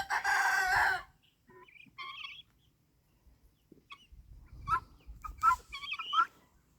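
Wyandotte chickens and guinea fowl calling in a backyard flock, with a loud raspy squawk at first followed by scattered clucks and a burst of higher chattering calls, fairly close.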